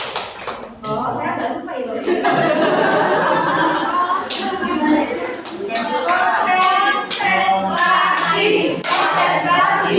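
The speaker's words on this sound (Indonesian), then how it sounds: "Jadi tepuk konsentrasi dimulai." Rhythmic hand clapping from the Indonesian 'tepuk konsentrasi' concentration clap game, sharp claps recurring steadily close by under continuous talking and light chuckles.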